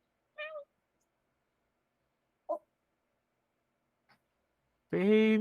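A pet cat gives two short, quiet meows separated by silence, followed by a longer, louder drawn-out cry at the very end, indoors in a quiet room.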